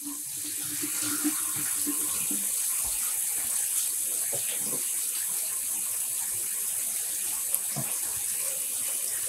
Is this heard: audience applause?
no